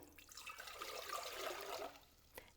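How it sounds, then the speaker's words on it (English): Three cups of water poured into an Instant Pot during a test run, a soft splashing, trickling pour lasting about two seconds, fairly faint and close, ending with a small drip. "The booklet recommends 3 cups of water, which I've already measured out, and I'll pour that in."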